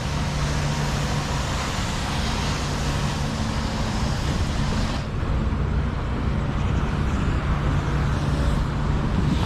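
Many cars queue at a car wash in Madrid during a sandstorm, a steady dense wash of idling engines and roadway noise with broadband hiss, continuous and fairly constant without distinct events.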